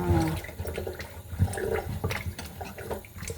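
Tap water runs over a pack of pork neck bones being rinsed in a kitchen, a steady close splashing stream with irregular bursts of louder gushing.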